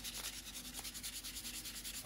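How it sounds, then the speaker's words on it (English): Fine 220-grit sandpaper rubs back and forth across a carved wooden miniature duck decoy in quick, even strokes, a close, dry, rhythmic scratching with no voices. "I'm just gonna use some fine sandpaper"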